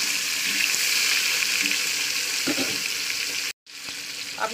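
A halved katla fish head frying in hot oil, a dense, close, steady sizzle with light crackles, cutting out for an instant before the spitting resumes.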